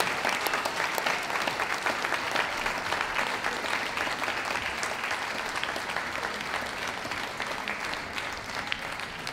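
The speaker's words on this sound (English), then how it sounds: "So cheer on the Schipperke." An audience at a dog show final applauds a Schipperke with dense, continuous clapping and some cheering, a steady wash of sound that holds for about nine seconds without talk.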